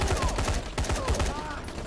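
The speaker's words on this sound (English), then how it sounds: "Just hose them with bullets" Rapid automatic gunfire from guns in the game Dying Light rattles in dense, repeated bursts, loud and continuous, with bullets hosing down attackers.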